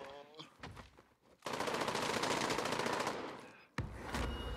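Automatic gunfire in Call of Duty Warzone, a rapid sustained burst of close shots lasting a couple of seconds, preceded by scattered quieter sounds and followed by a sharp single crack.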